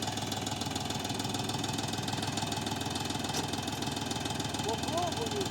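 A DTZ 354U tractor engine works hard tilling a garden plot, a steady mid-pitched mechanical drone with a knocking edge that runs continuously and fairly loud, with faint voices underneath.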